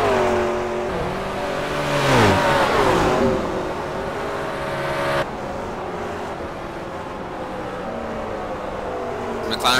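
McLaren race car engines roar on a track at a Grand Am round at Canadian Tire Motorsports Park, with revs rising and falling as cars pass close by and faster prototypes go past, under commentary.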